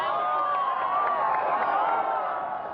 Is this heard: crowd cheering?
yes